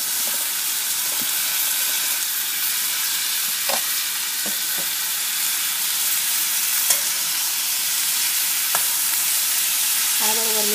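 Diced onion and tomato sautéing in a pan for a Gujarati brinjal olo, giving a steady broadband sizzle with a few faint stirring clicks and scrapes, fairly loud and continuous with no talking.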